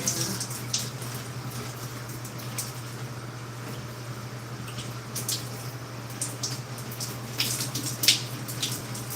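Water runs steadily from a tap while hair is rinsed clear of product, a constant broadband wash with occasional louder splashes and spatters, close by and with no talking.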